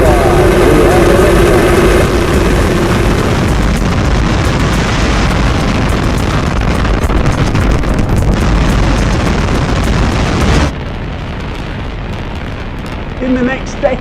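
Rocket engines roar at liftoff, a loud continuous broadband rumble that holds steady for about ten seconds before dropping to a quieter, thinner roar.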